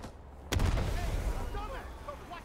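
AK rifle fire erupts in Rising Storm 2: Vietnam as one sudden loud blast after quiet, then a rumbling, echoing tail that fades under faint chirping tones.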